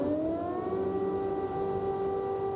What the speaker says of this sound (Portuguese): Ucranianos começaram mais um dia ao som de sirenes.